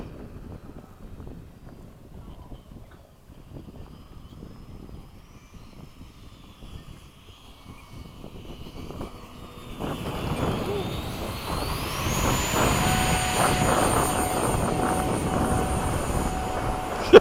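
An FMS 70mm F/A-18 RC model jet motors overhead at sunset, its ducted-fan whine rising and swelling louder midway as it passes near, with a faint roar of wind and distant background before.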